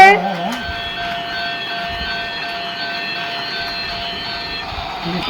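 A toy train runs on its track with a steady mechanical whine and hum, continuous and close, after a brief voice at the start.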